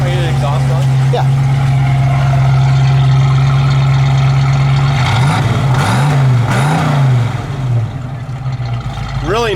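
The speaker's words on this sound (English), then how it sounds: "Really nice dual exhaust sound" Chrome-tipped dual exhaust on a car revving from a steady idle, a loud close rumble with a few rising and falling throttle blips toward the end, with people talking nearby.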